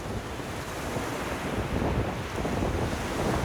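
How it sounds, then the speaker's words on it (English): Strong wind at a San Francisco beach roars and buffets the microphone steadily, with a constant rushing noise and no voices. "When it's super windy like this"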